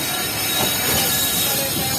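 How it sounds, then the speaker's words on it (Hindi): The 36 Down Sir Syed Express pulls out of Wazirabad railway station up close, with loud wheel squeal and a grinding rumble that holds steady throughout. "तो वजीराबाद रेलवे स्टेशन से निकल रही है अब हमारी 36 डाउन सर सैयद एक्सप्रेस"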